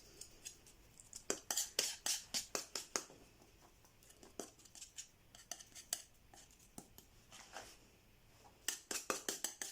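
Metal palette knife scraping and mixing paint on a palette for an oriental-style painting, a close series of quick rhythmic scrapes and taps in bursts, with quiet pauses between.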